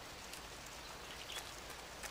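Faint, steady rain hisses softly in a jungle setting in Metal Gear Solid 3, a quiet continuous patter with occasional slightly louder drops.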